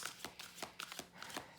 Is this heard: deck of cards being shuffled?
yes